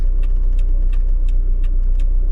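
Inside an old, worn Nissan Bluebird on the move, a steady deep engine and road rumble fills the cabin. Quick rattles and ticks from the worn interior break in at irregular moments, and no one speaks.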